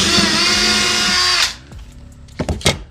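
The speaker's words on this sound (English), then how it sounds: "I want to drill a little pilot hole in the wood" A power drill whines steadily for about a second and a half while drilling a pilot hole in wood, then spins down and stops, followed by a few short clunks and knocks.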